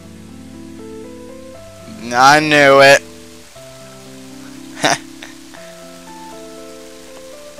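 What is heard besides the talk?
rain falling in video game Mother 3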